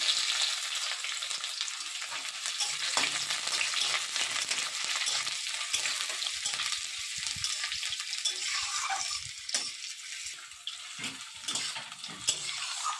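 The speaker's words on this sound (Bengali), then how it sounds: "পেঁয়াজটা পুরোপুরি ভাজা প্রয়োজন নেই, একটু এইভাবে নেড়ে চেড়ে একটু নরম করে নিলেই হবে।" Steady, continuous sizzling of onions being stir-fried in hot oil, with occasional scraping and stirring in the pan, close and fairly loud throughout.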